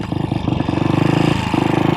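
A 1966 Royal Enfield RE 250 Continental GT motorcycle, its engine hanging from the frame, runs with a loud, steady single-cylinder thump, the rapid even pulses dipping briefly and picking back up, close and alone.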